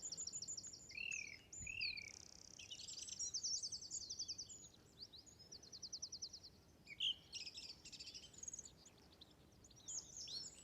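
A song thrush sings a varied, repeating phrase of bright whistles and rapid trills, fairly distant over a quiet outdoor background.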